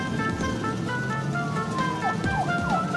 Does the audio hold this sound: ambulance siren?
yes